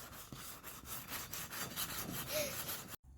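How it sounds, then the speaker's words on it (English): Sanding the wheels of a cheap factory cart by hand, a close, steady back-and-forth rubbing scrape in rhythmic strokes that ends abruptly. "I sanded the wheels."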